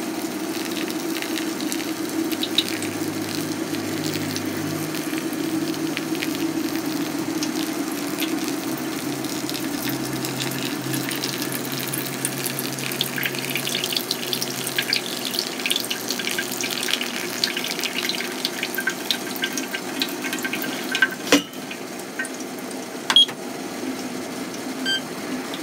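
Hot water poured in a gentle, steady stream from a kettle for pour-over coffee, a continuous soft trickle and hiss heard up close over a low hum, with a faint clink near the end and no talk.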